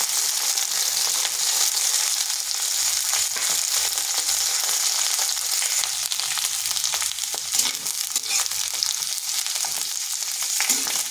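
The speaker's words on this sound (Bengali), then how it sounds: "কয়েক সেকেন্ড মানে একটু ঢেঁড়সটাকে নেড়ে নিয়েছি।" Okra fries over high heat in a pan and gets stirred, a loud, dense, continuous sizzle with occasional scraping and clattering from the spatula, close up and alone with no talking.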